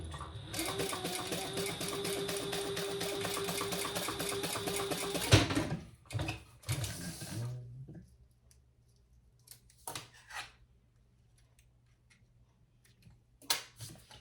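A sewing machine stitches across the bottom of a trifold men's wallet in a steady, rapid mechanical run for about five seconds, then stops, followed by a few scattered handling clicks and taps.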